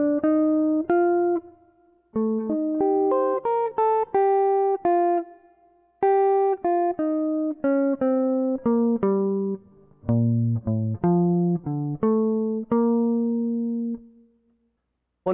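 A guitar plays two phrases from a practice solo, a clean sequence of single picked notes and short double-stops with brief pauses between figures, played alone.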